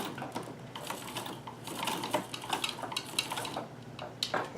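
A Davis vertical feed sewing machine stitches a zipper with quick mechanical clatter and ticking, rising into busier bursts partway through, fairly faint and heard alone.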